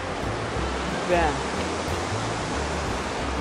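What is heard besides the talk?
river and waterfall flowing in Los Dinamos, Mexico City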